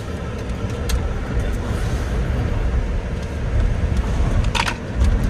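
A 2023 Ford F-150 Lightning electric pickup accelerating in sport mode, heard from inside as a steady low road and motor rumble that swells slightly, with no talk.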